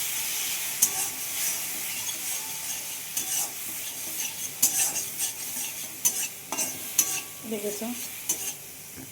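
Ginger and spices for a duck egg curry are stirred in a sizzling pan of hot oil, with a steady frying hiss and repeated scraping of the spoon close by.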